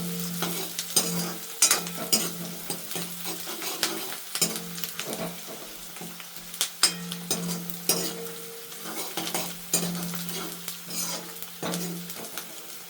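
Chopped vegetables stirred into onion and garlic sautéing in a pot for pulao rice, a steady sizzle under repeated scraping and clanking strokes of a metal spoon, close and continuous.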